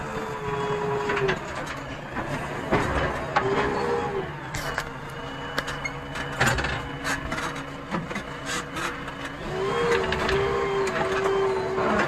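A JCB backhoe loader creeps forward while levelling soil, its engine droning steadily with shifting whining tones and occasional scraping and knocks, close and continuous throughout.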